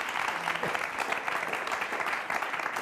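A live audience at a poetry talk gives a sustained, moderately quiet round of applause, many hands clapping in an even, dense patter that never swells or fades.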